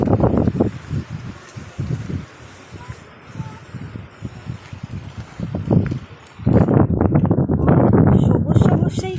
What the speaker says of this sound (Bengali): এত হাওয়া দিচ্ছে।